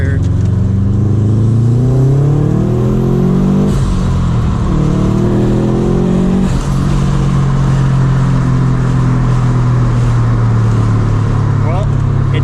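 A Subaru STI on an acceleration pull, its engine revving up through the gears in loud rising sweeps from inside the cabin, with clear drops at each shift and a voice over the engine.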